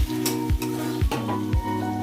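Steady loud sizzling of onions frying in plenty of oil, with a stirring scrape recurring about every half second, no speech.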